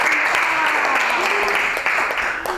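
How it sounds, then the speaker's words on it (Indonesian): A classroom audience applauds a group presentation with steady, dense clapping that holds at an even level for a couple of seconds, then begins to thin out. "beri aplaus kepada"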